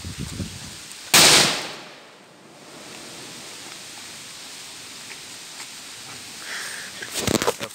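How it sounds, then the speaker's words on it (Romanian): A homemade firecracker made from a piccolo banger goes off with one sharp, loud bang that quickly fades to hissy quiet, followed later by a second burst of crackling blasts. "O petardă făcută acasă dintr-o bacă de piccolo"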